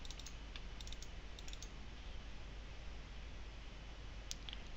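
Keys on a computer keyboard are tapped in a few faint, sparse clicks, mostly at the start and near the end, beneath a steady hiss of room noise.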